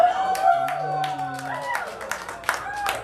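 Comedy festival audience clapping and cheering, a short burst of applause and whoops under a voice speaking, fading as he continues.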